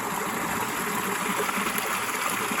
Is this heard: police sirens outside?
no